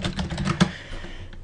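Someone types on a computer keyboard, with a quick run of close, crisp key clicks and one sharper keystroke midway, tapering off toward the end.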